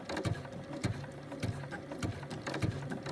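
A sewing machine runs a zigzag stitch along raw fabric edges, with steady rhythmic mechanical chattering and a clear stitch beat about every half second, close and alone.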